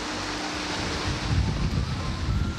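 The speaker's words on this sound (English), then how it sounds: "Opening the water gate at the end to let the water in, which will cause the boat to rise up." Water rushing into a canal lock chamber beside the Chester city walls as a gate is opened to lift two boats, a steady broad wash of flowing water with some wind buffeting the microphone.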